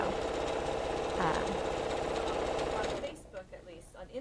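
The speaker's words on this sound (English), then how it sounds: "You should be able to hear me a little bit better, even over the roar of the sewing machine." A sewing machine runs with a loud, steady mechanical whir for about three seconds, then stops. A voice talks over it.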